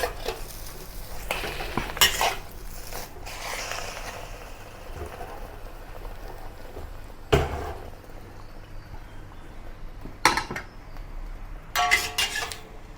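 A preserved radish omelette being flipped in a seasoned cast iron wok: metal scraping and clanking of a spatula against the wok over a soft sizzle, with a few sharp knocks spread across the clip.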